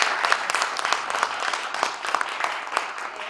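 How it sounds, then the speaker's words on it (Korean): An indoor forum audience at an NGO newspaper debate event gives its speakers a round of applause, a moderate, even patter of many hands clapping with no voices over it. "네 분 연사님께 다시 한번 감사드리고 박수 보내드리겠습니다"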